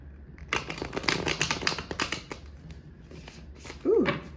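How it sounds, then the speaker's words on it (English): A Muse tarot deck is shuffled by hand, with a run of quick papery riffles and flicks close up, followed by a brief bump near the end. "I'm going to shuffle my Muse deck."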